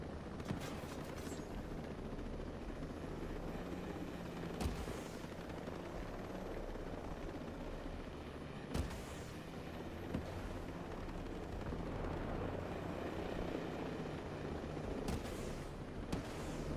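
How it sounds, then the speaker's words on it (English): Helicopter rotor drone with bursts of gunfire and explosive thuds throughout, loud and continuous, like a battle soundscape, from the video game Tom Clancy's Ghost Recon Breakpoint. "We got two enemy helicopters."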